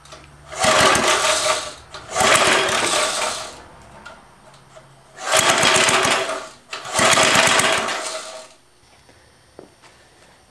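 A small tiller engine, heavily choked, runs in four loud, rough bursts of a few seconds each, with short lulls between them where it nearly dies, and falls to a faint idle near the end.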